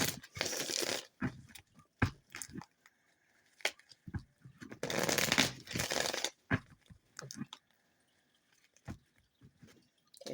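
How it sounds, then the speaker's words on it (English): Tarot cards shuffled in several bursts of dry riffling and papery rustle, close and fairly quiet, separated by brief gaps with scattered taps and soft handling noises. "A few more shuffles."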